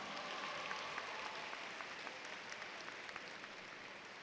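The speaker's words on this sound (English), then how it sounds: "Let's give them another round of applause." Steady, dense applause fills the hall at a high school graduation ceremony, heard at a moderate distance with no talking over it.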